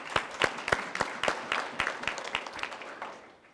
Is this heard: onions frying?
no